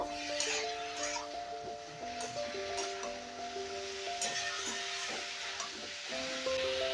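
Lentil curry with salt being stir-fried in a pan, a soft sizzle with scraping stirs under steady background music, fairly quiet and continuous.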